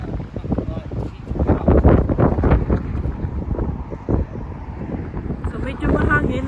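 Wind gusting outdoors on a cloudy day during a walk to cherry blossom trees, heavy buffeting rumble across the microphone, loud and uneven, rising and falling in gusts.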